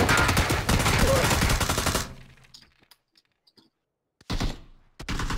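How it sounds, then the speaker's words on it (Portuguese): Rapid automatic gunfire in the video game PUBG, a loud dense burst for about two seconds, then near silence before a few more close shots. "era muito arriscado, pois ainda tava tendo tiro ali"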